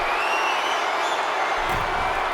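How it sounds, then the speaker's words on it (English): A wrestling arena crowd in WWE 2K24 roars and cheers in a steady, dense wash of noise, with a faint burst of clapping near the end. "Look at Kemp getting the crowd involved."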